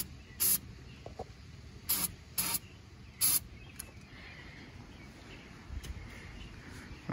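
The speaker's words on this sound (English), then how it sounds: "I'm going to spray a little bit of starter fluid on it." Starter fluid is sprayed from an aerosol can onto a 7.3 diesel engine, giving several short, sharp hissing bursts over quiet outdoor background with faint birds and no talking.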